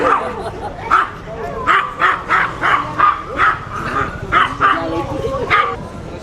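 A dog barks repeatedly in a quick series of sharp, fairly close yaps, with some whimpering and background noise between barks.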